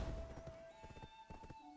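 A horse ridden in a video game gives quick rhythmic hoofbeat clip-clops and a whinny, fairly quiet, over a faint sustained tonal background.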